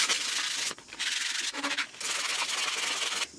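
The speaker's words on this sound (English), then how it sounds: "I just need to sand the outside of that." Hand sanding of the outside of a repair piece for a broken racing yacht mast, made of layered material to be bonded with epoxy: three long, close, steady rasping strokes separated by brief pauses, with no talking.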